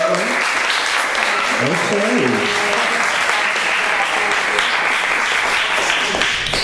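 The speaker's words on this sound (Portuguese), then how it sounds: "Aplausos, né, pra nossa roda, gente" Audience applause at a Brazilian conversation circle with pioneering figures, steady and dense throughout, with a voice speaking briefly over the clapping.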